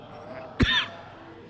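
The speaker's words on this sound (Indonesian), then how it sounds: "saya sampai batuk-batuk" A single short cough, sharp and close, rising abruptly out of a quiet indoor room tone and fading within a fraction of a second.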